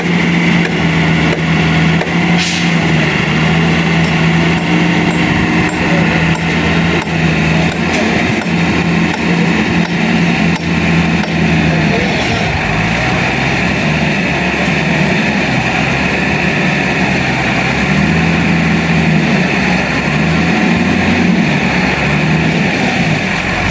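Truck delivering rock sand to a construction site, a steady loud diesel engine idling and rumbling throughout, with a constant low drone and occasional faint knocks, no talking.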